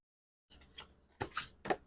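A few quick papery riffles and soft card snaps as tarot cards are shuffled, close and quiet, in short bursts after a moment of silence.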